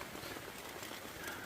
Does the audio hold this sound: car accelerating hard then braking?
no